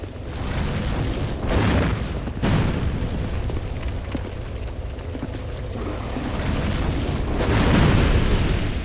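Heavy booming fireball explosions in Dark Souls 2, two or three loud rumbling blasts swelling and fading over continuous roaring game noise, with no talk.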